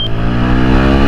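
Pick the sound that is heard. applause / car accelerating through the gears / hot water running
car accelerating through the gears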